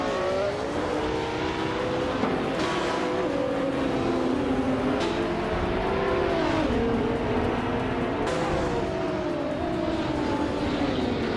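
Racing-game engines, led by a 2019 McLaren Speedtail, roar loud and close with rising and falling revs, gear shifts and overlapping cars passing, a continuous mechanical whine throughout.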